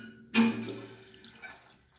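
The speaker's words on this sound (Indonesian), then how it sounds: "sekarang kita hidupkan airnya" A tap is opened during a toilet repair, letting water gush in with a sudden splash that settles into a softer, trickling flow, close and brief with no voices.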